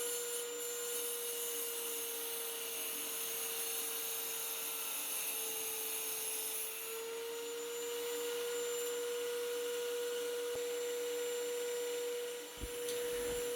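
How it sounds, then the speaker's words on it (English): A small Harbor Freight rock saw with a diamond blade cutting gemstone gives off a steady high whine and a grinding hiss that continue for the whole stretch. A single faint knock sounds near the end. "I had noticed that the cutting was slowing down slightly, and I think that's just the nature of using diamond abrasive type blades."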